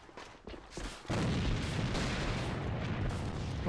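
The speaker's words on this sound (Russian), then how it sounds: "Бросаю гранату!" A grenade explodes in an online shooter match: a short run of lighter pops, then a loud, heavy blast at about one second that leaves a broad rumbling roar for the rest.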